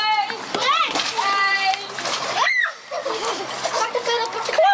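Someone jumps into canal water in Sneek with a loud, close splash and sloshing, while children's voices chatter and shout over it.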